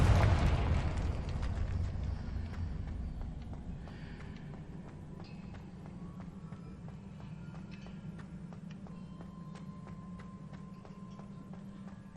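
Confringo spell burst in Hogwarts Legacy: a loud booming blast at the start that rolls off into a long rumbling decay, followed by a low steady hum with faint scattered clicks and ticks.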